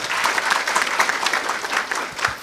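An audience at a national border management conference opening applauds warmly. The clapping is dense and close, with individual claps popping out of the steady roar before it thins slightly at the end.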